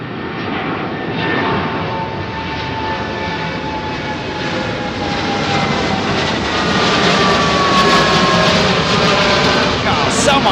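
A Boeing 787 Dreamliner jet takes off from runway 09R at London Heathrow with a loud, sustained engine roar that swells gradually and carries a high whine.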